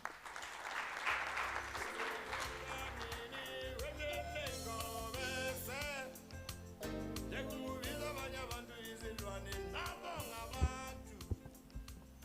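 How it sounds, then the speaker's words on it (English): An audience at a university gender-based violence dialogue applauding to welcome a speaker, steady clapping mixed with loud music underneath that runs the whole length. "Let us give her a round of applause"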